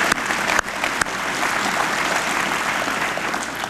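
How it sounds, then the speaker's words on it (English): A crowd applauds at a swearing-in ceremony for Congressman Himes, a steady dense wash of clapping that holds for several seconds at full strength with no talking over it. "You give him a round of applause."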